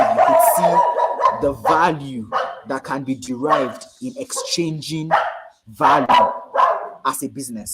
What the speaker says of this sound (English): Apologies for my dog in the background.